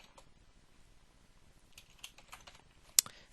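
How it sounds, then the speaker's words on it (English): Fingers tap on a computer keyboard while entering field names in Corel Draw X4, a short, quiet burst of irregular key clicks with one sharper click near the end and no voices. "So I'm going to type first name"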